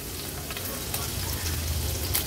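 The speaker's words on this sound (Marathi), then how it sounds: "आता आपण फोडणीला ह्या चेचलेल्या लसणाच्या पाकळ्या घालूया" Crushed garlic cloves sizzle in hot oil as a tempering for an Agri Koli style cucumber and prawn curry. The frying crackle is steady, close and dense throughout.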